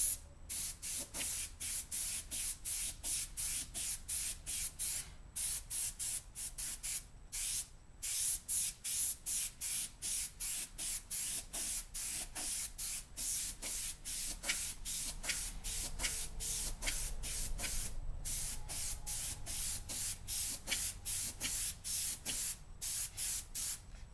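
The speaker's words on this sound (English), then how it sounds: "With an airbrush, as long as you remember your basic 4, you can lay your shading and your lines at the same time." An airbrush sprays paint onto paper for a portrait, a soft close hiss pulsing in rapid short bursts with tiny gaps between, steady and rhythmic throughout.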